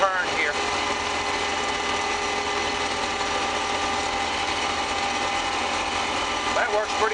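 Combine harvester running while harvesting wheat in a small field, a steady loud engine drone with a high mechanical whine from the cab, continuous throughout with faint talk over it.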